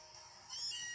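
Meowth's cat cry in a Pokémon video game, a single short, faint, slightly synthetic meow rising and fading within a second, heard alone.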